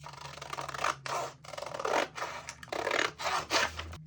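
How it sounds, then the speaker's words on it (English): Fabric scissors cutting excess material off the side of a simple sundress at the new waist seam, giving close, crisp repeated snips and slicing strokes in a quick uneven rhythm with short gaps between cuts. "So I'm going to cut all of this excess off the side."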